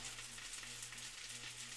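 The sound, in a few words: meatballs frying in a pan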